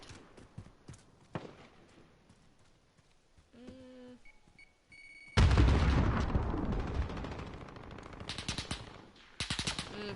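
Rapid automatic gunfire and bursts of shots from a Call of Duty Modern Warfare match, sparse pops early then a loud dense barrage with overlapping blasts and a final burst near the end, no talk.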